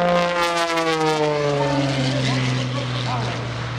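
A propeller aerobatic airplane performs at the 2016 Greenwood Lake Airshow: a steady, loud engine drone with a sliding pitch fills the whole stretch, with a voice talking over it.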